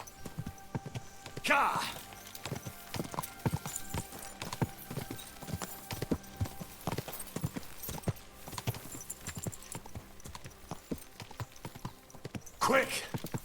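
Horse hooves clip-clopping in Kingdom Come: Deliverance II, a steady run of sharp hoof strikes at close range, with voices speaking over them and a couple of louder bursts along the way.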